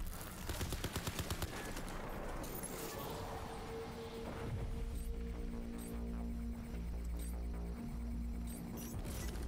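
Rapid gunfire aimed at a turret in Crysis 3 Remastered, a fast burst of shots early on giving way to steady loud bangs over a continuous low electronic hum and game sounds.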